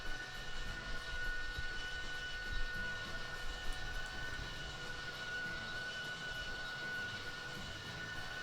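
Airliner engines throttled back to about 70% during descent below 2,000 feet, a steady broad cockpit roar with a faint constant whine, unbroken and fairly quiet throughout.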